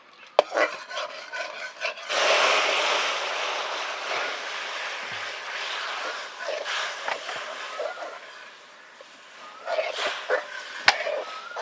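Water hits hot, dark homemade caramel for soy sauce and sets off a sudden loud hissing, bubbling burst that slowly fades. Scraping and stirring noises sound close before and after it.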